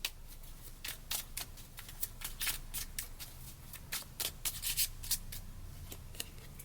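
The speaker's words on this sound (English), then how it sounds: "Let me pull a Sovereign Oracle card just for fun." Sovereign Oracle cards are shuffled by hand, giving a quiet, close series of quick papery flicks and riffles in irregular bursts, with no voices.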